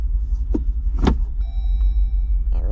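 A 2023 Jeep Wrangler Rubicon 392 idles with a low, steady rumble while it creeps forward and shifts into 4 low. Two short mechanical clunks and a faint electronic tone sit over the engine, and no voices are heard.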